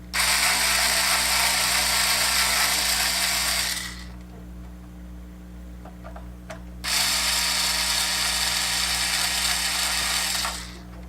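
Electric screwdriver whirring steadily while unscrewing screws from the underside of a PS3 console, two long sustained runs separated by a brief pause with faint handling clicks, close and alone.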